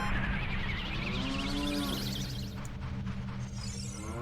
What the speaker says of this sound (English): I wonder how the cows even get down into these holes anyway.